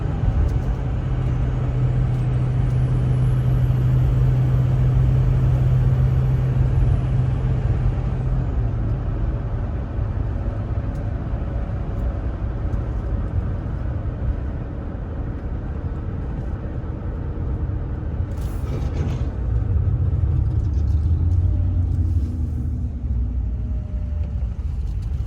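A car drives down the road on the way to a race event, heard from inside as a steady low engine rumble and road roar, with a passing whoosh near the end and no one talking.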